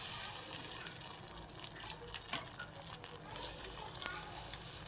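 Rice flour batter poured into a hot pan with coconut oil for Kerala kalathappam, giving a steady, close hiss and sizzle with faint splashing and stirring.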